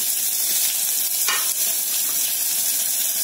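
Chopped onion frying in a pan of hot oil with mustard seeds, cumin and curry leaves, giving a steady loud sizzle and hiss with a brief stir partway through.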